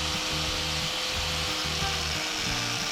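A power tool cuts through the top steel floor plate of a Hino Profia truck during a DIY drain-hose job, giving a steady, close grinding-sawing noise that runs without pause for the whole stretch.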